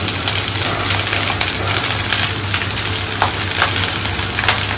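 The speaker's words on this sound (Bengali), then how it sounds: "এই যে আমাদের সব রসুন টসুন হালকা লাল লাল ভাজা হয়ে গেছে, এবার ভাতটা দিয়ে দিচ্ছি।" Cooked rice sizzles in a pan of garlic fried until lightly reddened, a steady, close crackle and hiss with faint stirring scrapes and no voices.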